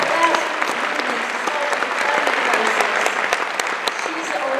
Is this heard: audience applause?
yes